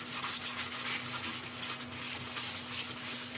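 A woodturning piece of yellowheart wood being sanded, or having blonde shellac sealer applied, on a spinning lathe: a continuous dry rubbing hiss over a steady motor hum, close and even throughout.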